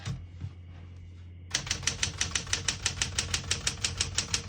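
Keys clack steadily on a 1972 Smith-Corona Galaxie Twelve portable typewriter, a brisk, even run of sharp mechanical strikes close up after a short quiet stretch.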